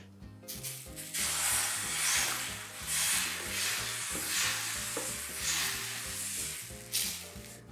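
Thick crepe batter sizzles and hisses in a hot pan while it is spread around, a steady close frying sound with soft scraping and no talking.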